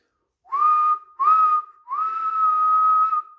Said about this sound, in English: whistled Henry